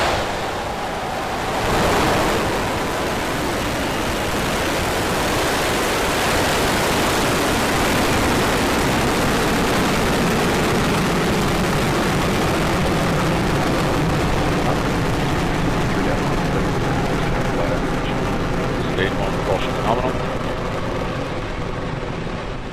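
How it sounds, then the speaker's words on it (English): Rocket engines ignite and lift off in the SpaceFlight Simulator game during a SpaceX CRS-18 mission, making a loud, continuous roar that swells after a sharp onset and rumbles steadily throughout. "10, 9, 8, 7, 6, 5, 4, 3, 2, 1, 0. Ignition."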